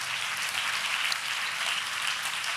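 Church congregation clapping during a Sunday service, a steady dense wash of applause filling the room at moderate loudness throughout, with no voices on top.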